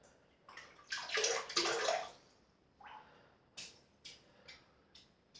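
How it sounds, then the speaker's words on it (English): Shaving brush dipped and swished in water, a short burst of splashing and sloshing followed by several small drips and trickles, close and quiet with no talk. "dip the brush in some water"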